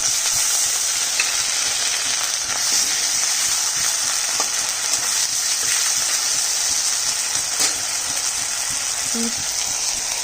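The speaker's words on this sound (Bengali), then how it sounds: "দিয়ে দিচ্ছি টমেটোটা এবার দিয়ে দিচ্ছি বাটা মশলাটা" Tomato and ground spice paste frying in a pan for a light fish curry, a loud continuous close sizzle with occasional faint clinks, steady throughout with no talk.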